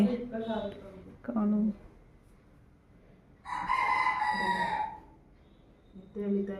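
A rooster crows once loudly and close at a home during a Yugadi festival morning, its long call set between stretches of someone talking nearby.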